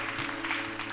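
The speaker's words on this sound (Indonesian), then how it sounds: "Kasih tepuk tangan buat Tuhan." Many hands clap in a church congregation at an evening worship service, a brief, even wash of crowd applause at moderate loudness.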